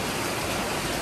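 Heavy rain pours down during a typhoon in a rural farm setting, a dense, steady roar of falling water that stays loud and unbroken throughout.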